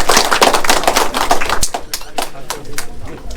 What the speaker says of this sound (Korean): 박수로 마무리 짓겠습니다